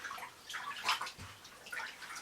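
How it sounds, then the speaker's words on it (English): Water and bleach are stirred with a spoon in a container for bleaching jeans, giving soft, faint sloshing and light clinks over a couple of seconds. "Now I'm just gonna mix that up with my spoon."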